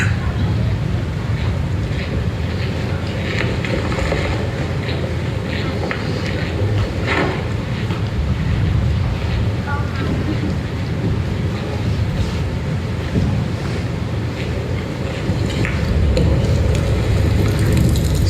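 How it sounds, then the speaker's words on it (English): Strong gusting wind roaring steadily across the microphone outdoors during an elk hunt, a broad continuous rumble and hiss with no break. "See how bad the wind's blowing."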